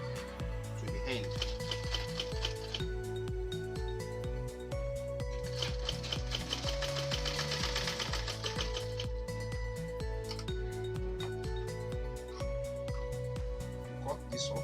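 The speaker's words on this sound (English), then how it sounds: "Then you sew through it to the end." A sewing machine stitching a backpack top handle runs in a steady mechanical whir with rhythmic needle clatter, quiet and continuous, with pauses where the speed changes.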